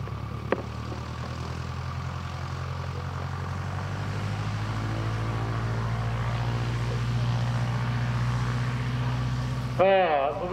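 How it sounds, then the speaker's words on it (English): A Piper J3 Cub light airplane's engine idles and taxis nearby in a steady, droning propeller hum that swells slightly over time, with a brief click near the start and a voice cutting in at the very end. "take off with the Piper J3 and demonstrate this aircraft with Farmer O'Horrigan on board"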